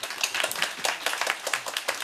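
Audience at a COSCUP 2019 technical talk on ThreadSanitizer clapping to thank the speaker, a steady patter of many hands at close range for about two seconds, with no talking over it.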